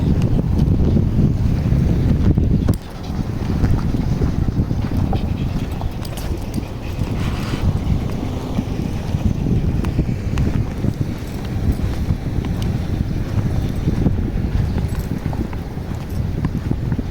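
Strong desert wind buffeting the microphone in a continuous low rumble, loud and unbroken for the whole stretch, with no talking.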